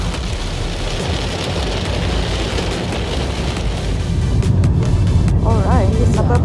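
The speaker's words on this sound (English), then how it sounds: "It started pouring down" Heavy rain pours down steadily around a gondola at Arthurs Seat on the Mornington Peninsula, a dense, close hiss that swells slightly louder toward the end, with a brief voice near the finish.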